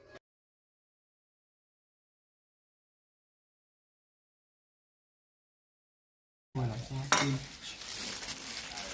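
A long stretch of silence, then tofu with minced lemongrass and chili sizzles loudly in a hot pan while a utensil stirs and scrapes through it.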